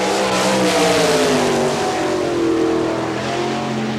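Loud sprint car roaring around a dirt oval at Hartford, Ohio, in an All Star Circuit of Champions event. A single engine drones steadily and rises and falls in pitch as it accelerates and lifts, with no voices over it.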